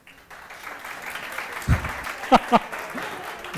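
An audience claps in a short burst of applause during an interview with a UPSC topper, a few sharp claps standing out over a quiet room with faint speech.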